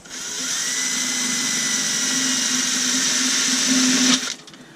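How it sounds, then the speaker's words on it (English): An electric drill whirs at a steady high pitch for about four seconds while drilling small holes in a furnace build, then stops abruptly. "I'm drilling a bunch of small holes"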